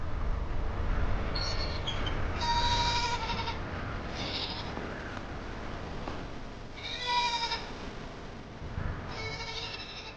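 Mountain goats bleat several times over a constant rumbling outdoor background, with loud, wavering cries rising and falling across the span.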